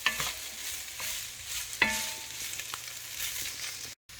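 Diced potatoes and onions browning in a soup pot, with a soft continuous sizzle and a few sharp clanks and scrapes of a stirring utensil against the pot.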